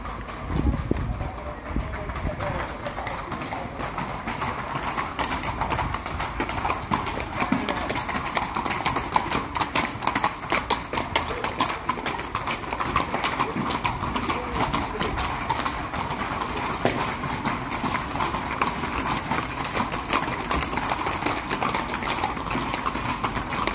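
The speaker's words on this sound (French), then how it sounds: "il y a des chevaux qui arrivent" A group of horses clip-clops along a town street on the Camino route near Negreira, Spain, with a dense, continuous patter of hooves drawing close and staying loud throughout.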